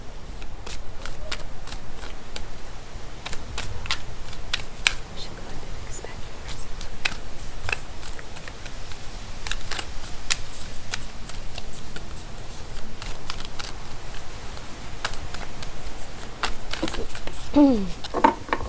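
Tarot cards are shuffled continuously, with rapid riffling patters and soft flicks close by for a long stretch, and a voice speaks intermittently over them.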